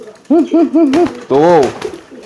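Male pigeon, a local loft-bred bird, giving its courtship coo: three short rolling coos in a row, then a longer, louder swelling coo, heard close with faint background noise and no talking.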